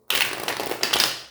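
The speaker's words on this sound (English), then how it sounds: "I'm getting to shuffle 2 more times, carefully." A quick riffle of cards, a burst of crisp flapping and clicking that runs for about a second, close by with no voices.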